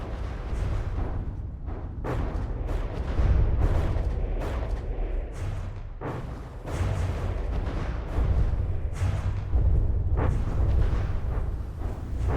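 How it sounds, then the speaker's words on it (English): Continuous rumbling explosions from a video game, heavy low booms overlapping one after another with crackling bursts, loud and sustained throughout. "it produces a bunch of explosions, and explosions are fun"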